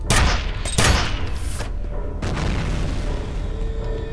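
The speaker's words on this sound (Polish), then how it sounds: "jeśli ten granat nie rozwalił tej miny... Rozwalił." A grenade blows up a mine in the F.E.A.R. video game: two loud, close booms in quick succession, then a third blast, each trailing off into a long, low rumbling decay.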